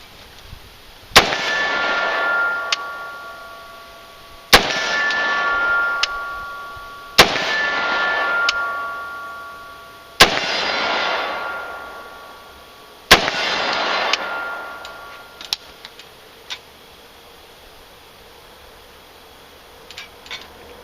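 Five loud, sharp gunshots ring out at steady spaced intervals from a carbine with a standard 16-inch barrel fitted with a CMMG Mutant muzzle, each crack followed by a ringing decay, at an outdoor range.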